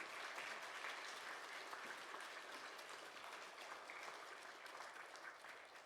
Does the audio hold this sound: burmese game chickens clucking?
no